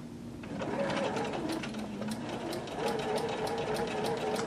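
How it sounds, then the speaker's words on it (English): A sewing machine set to its longest stitch sews down a pleat, running steadily with a fast, even mechanical whir and rhythmic stitching clatter, close and continuous. "let's go ahead and sew that pleat down."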